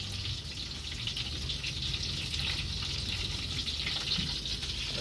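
Food fries until crisp in a pot, a steady crackling sizzle that stays even and fairly quiet throughout, with small bubbling pops and no talk.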